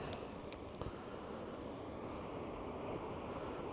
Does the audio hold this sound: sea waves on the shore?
yes